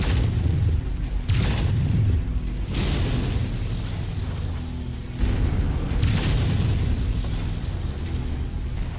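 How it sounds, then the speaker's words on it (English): Burst-fire AC-20 autocannon in MechWarrior Online, heavy booming shots in loud clustered bursts with a pause between volleys, a constant mechanical rumble beneath and no voices over it. "He's got a burst fire AC-20."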